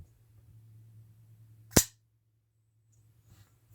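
A Kershaw Bare Knuckle folding knife snaps its blade into the locked position with one sharp, loud metallic click, close up, set against a faint low hum and otherwise quiet surroundings.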